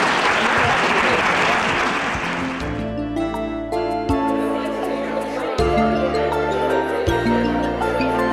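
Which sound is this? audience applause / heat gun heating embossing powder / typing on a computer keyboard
audience applause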